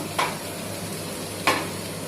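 Capsicum and chopped green chili fry quietly in a pan with a soft steady sizzle, broken by two brief scraping stirs of a spatula, one early and one later, with no talking.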